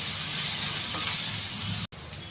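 Onions, garlic and curry leaves sizzle steadily in a hot pan, a continuous loud frying hiss that cuts out briefly near the end before resuming.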